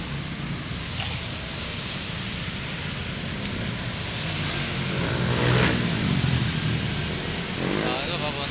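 A bus passes a roadside stop on a route to Tarlac: a steady engine drone swells into a louder passing whoosh midway, then eases over continuous road noise.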